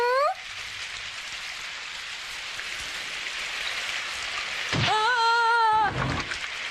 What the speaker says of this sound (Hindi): बारिश हो रही है डोरेमोन।